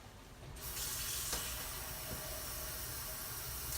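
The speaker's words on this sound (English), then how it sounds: "I'm going to use the faucet" A kitchen faucet suddenly opens and runs water into a 6-quart stockpot, a steady, loud hiss and rush of flowing water that continues without break and without speech.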